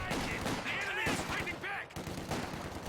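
A Vickers machine gun fires from long range in the strategy game Company of Heroes 2, a dense rattle of bursts under continuous battle noise while a commentator talks over it.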